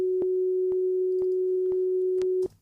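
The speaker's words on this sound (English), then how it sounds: "So I'm just going to create a bunch of notes in a MIDI clip, which will sound like this." Synthesized MIDI notes: one steady sustained sine-like tone with short clicky note attacks repeating about every half second, clean and alone, stopping abruptly after about two and a half seconds.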